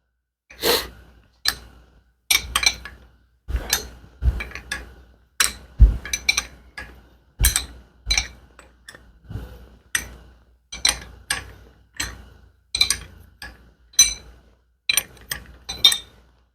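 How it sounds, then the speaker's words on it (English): Adjustable wrench turning a rear shock absorber nut on a 2012 Nissan Murano, a steady series of short, sharp metallic clicks and ratcheting bursts, repeated roughly every second, close up in a quiet space. "then I'm just going to hold it with my adjustable wrench"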